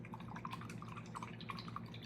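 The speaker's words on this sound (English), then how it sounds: "So I'm going to wash that brush." Paintbrush swished and rinsed in a small container of water while painting a ceramic dragon cup, faint close-up drips and gentle liquid plinks against a low background hum.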